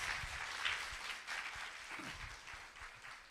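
Audience at a school annual day applauding, a continuous wash of clapping heard faintly from a distance with occasional low thumps underneath.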